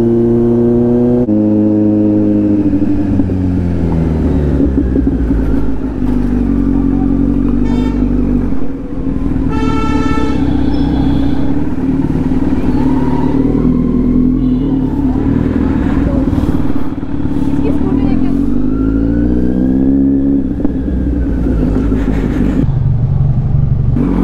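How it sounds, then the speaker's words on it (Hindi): A Kawasaki Z900 superbike's exhaust rumbles loud and close while cruising, its engine note rising and falling through revs, with occasional pops and a horn toot. "तुम क्रैकल सुन रहे हो, उसके क्रैकल"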